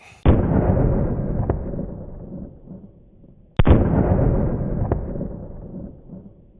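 Two loud, close 9mm shots from a Glock 43 pistol fired into a gel block. Each sharp crack rolls into a long reverberating decay, and the shots are a few seconds apart.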